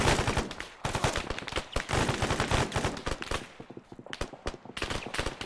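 Arma 3 combat gunfire, heavy bursts of machine-gun and rifle shots in rapid, uneven volleys, loud and close, with short lulls between strings of shots.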